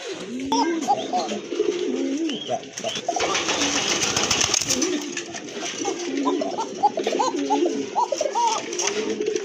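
Domestic pigeons at a farm cooing repeatedly, rolling low coos overlapping from several birds close by, with a brief burst of flapping midway and light background noise.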